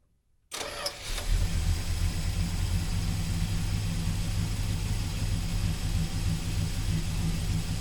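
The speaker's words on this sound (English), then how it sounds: "let's go put this thing back on the truck and see how it runs" A 1971 Dodge Sweptline pickup engine, just refitted after carburetor trouble, cranks and catches, then settles into a steady, loud idle with a deep low rumble that runs unbroken to the end.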